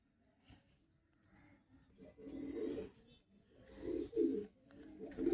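A breeder pigeon coos in low, throaty bursts, several rising and falling calls repeating close by over a quiet background.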